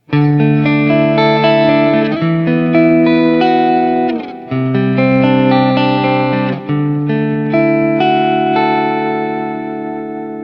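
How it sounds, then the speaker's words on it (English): Electric guitar played through the neck pickup with its coil split, sounding clean, sustained chords and notes that ring out over about ten seconds with a short gap midway, plus light effects and reverb, with no talking. "Let's split it and see what that coil split sounds like."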